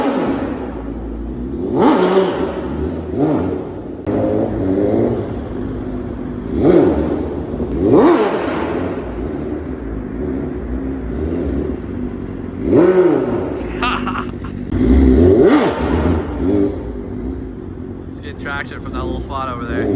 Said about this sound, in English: The bro Cisco, he pulled up the red S1000.